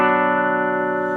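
An Epiphone Les Paul Gold Top on its bridge pickup, played into a Vox AC4TV amp, rings out a single sustained chord that holds steady and loud for the whole moment, close and clear, with no voices.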